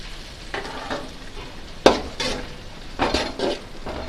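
Tomatoes with ginger-garlic paste sauté in hot oil for a chicken gravy, a steady sizzle broken by several scraping stirs and one sharp utensil clink against the pan, close by with no talk.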